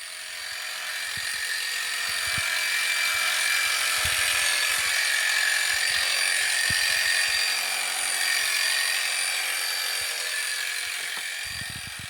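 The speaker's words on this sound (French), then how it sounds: "on va voir ce que donne la petite tondeuse de finition" A small electric horse finishing clipper hums steadily with a high-pitched whine, running continuously at close range with occasional faint knocks underneath.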